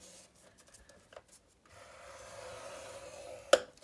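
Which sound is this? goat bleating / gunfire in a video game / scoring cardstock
scoring cardstock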